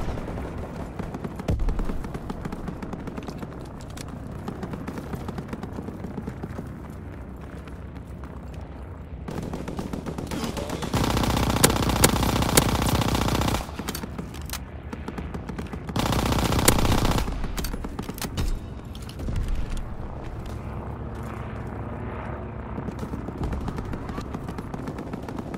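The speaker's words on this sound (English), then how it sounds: "Aircraft gunner inbound. Targets are confirmed." Aircraft gunner machine-gun fire from a video game: long, dense bursts of rapid gunfire that come and go over constant battle noise, loudest in two sustained stretches near the middle.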